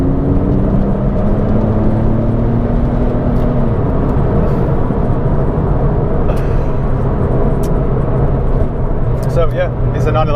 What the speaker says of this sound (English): So, I'm approaching the dual carriageway, foot on the accelerator.